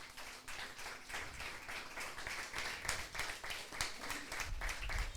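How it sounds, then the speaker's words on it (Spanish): Sustained applause and clapping from a church congregation fills the room, a steady crowd of hands with a faint voice underneath. "¿Puede aplaudirlo fuerte al Señor Jesús?"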